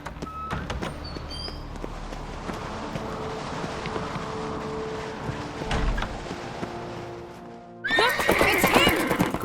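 A horse in The Witcher 3 gives a loud whinny near the end, after a stretch of hoof clip-clops and game ambience.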